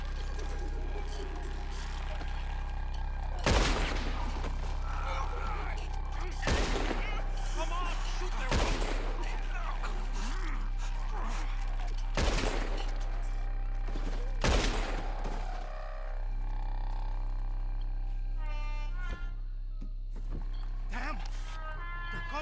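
Gunfire in Red Dead Redemption 2 on the Isle of Guarma: a handful of sharp, loud shots spaced a few seconds apart over steady game ambience, with shouting voices in between.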